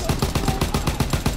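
Rapid automatic gunfire from a World War II multiplayer shooter, Call of Duty WWII, in War/Domination mode: a steady rhythmic burst of about seven or eight evenly spaced shots, loud and close.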